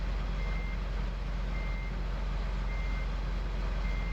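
Farming Simulator 2015 vehicle reversing, a soft, regular reversing beep repeating at a steady pace over a low, constant engine hum, fairly quiet and without talk.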